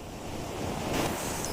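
Sea waves wash onto a shore in an animated cartoon, a steady broadband surf roar that swells slightly toward the end, with some wind-like hiss and no voices.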